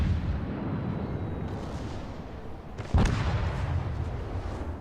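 Battleship guns firing at the Bismarck in World of Warships, a deep heavy boom of a salvo after a low rumbling roar of sea and engine, with no talk.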